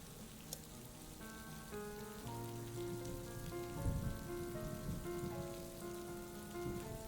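Soft rain falls steadily with a gentle hiss, while quiet sustained tones hum in the background.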